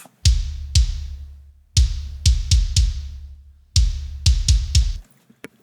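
A studio kick drum with EQ boost thumps punchily up close, a dozen or so hits in groups with quick doubled beats, each with full low-end weight and a short ringing tail.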